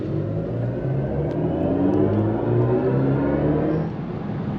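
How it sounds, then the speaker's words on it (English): BMW i5 M60 electric car accelerating with its designed synthetic drive sound, a layered humming tone that swells steadily over road rumble, then drops slightly near the end. "the sounds that this car has, which have been designed with the support of Hans Zimmer, do add to the personality of this car"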